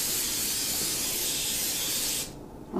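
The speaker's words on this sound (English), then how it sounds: "And I'm just going to spray this lightly." Cooking spray hisses onto a pan in one steady, close, loud burst lasting about two seconds before cutting off, with a faint clatter at the end.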